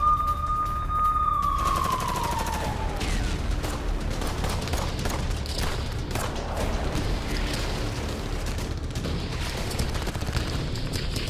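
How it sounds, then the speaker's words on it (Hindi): Rapid bursts of gunfire crackle densely and without pause during fighting between Hamas and the IDF. A rising, wailing tone is heard briefly at the start. "इजरायली सैनिकों पर ताबड़तोड़ फायरिंग करते हुए दिख रहे हैं।"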